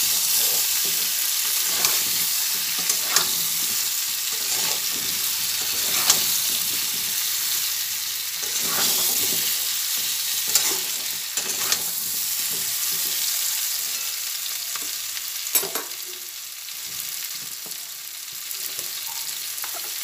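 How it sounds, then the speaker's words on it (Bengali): Pointed gourd and potato pieces frying in oil with Kashmiri chili powder, a continuous close sizzle punctuated by irregular spatula scrapes and knocks against the pan as the vegetables are stirred. "ভাজার সময় অল্প পরিমাণে কাশ্মীরি লঙ্কা গুঁড়ো দিলাম একটু কালার হওয়ার জন্য। আবার ভালোভাবে নাড়াচাড়া করে নিই।"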